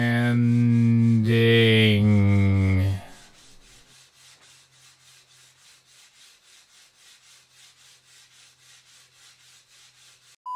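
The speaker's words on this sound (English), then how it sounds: "now I get to smooth them out with everyone's favorite thing, sanding" A loud sustained tone opens, then steady rhythmic rasping strokes of hand sanding a wooden guitar body repeat at a quick even pace, fairly quiet and close.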